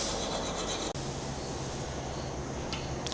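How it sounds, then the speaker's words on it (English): A metal file rasping across the points of a steel lock washer during a jamb rack assembly, a close, steady scraping rub that continues after a brief break, no talk. "We're going to take our lock washer and file the points."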